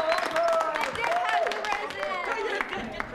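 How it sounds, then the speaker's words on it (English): Small audience clapping at a theatre discussion, scattered hand claps under overlapping voices and chatter, moderately close and continuing throughout. "just clap just for the hell of it"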